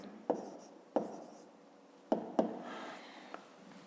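A pen scratches out numbers on paper in a few sharp taps and short strokes, close and quiet in a calm room with no speech.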